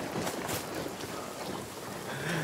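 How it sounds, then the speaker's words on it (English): Rain falls in The Forest played in VR, a soft, even hiss of drops across the short stretch with no voices over it. "It's raining."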